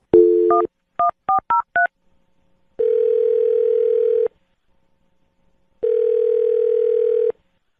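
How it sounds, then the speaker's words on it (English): A quick series of touch-tone beeps as a phone number is dialed, followed by two long, steady tones with a pause between them. "I'm going to dial this phone right now"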